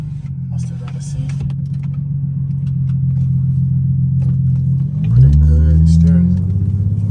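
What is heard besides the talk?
loud car engine exhaust leak, Infiniti G37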